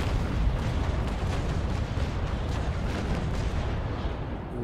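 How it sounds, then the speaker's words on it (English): Ship cannons fire in a Naval Action battle between 1st- and 2nd-rate sailing warships, a dense, continuous barrage of heavy booms and rumbling blasts, loud and close throughout with no voices. "let's fire one test shot there"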